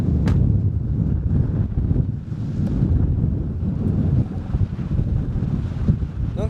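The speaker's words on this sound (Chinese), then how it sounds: "风很大啊。" Strong wind roars and buffets the microphone in open desert sand country with scant grass, a constant low rumble with gusty surges.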